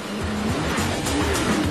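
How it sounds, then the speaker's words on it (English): Porsche 911 GT2 driving past with a steady, loud engine drone and some tire noise, heard close and without speech. "This is the 911 GT2."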